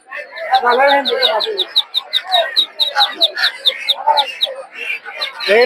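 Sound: ducklings and chickens at a poultry market

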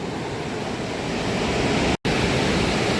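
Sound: sea waves washing up to boulders on Digha beach

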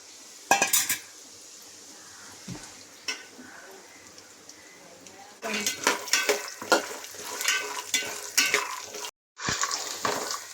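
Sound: frying peanuts in sunflower oil

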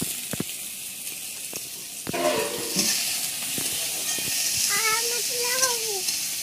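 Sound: onions frying with chilli and garlic in pan

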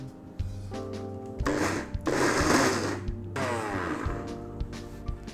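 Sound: mixer grinder grinding dahi bhalla batter

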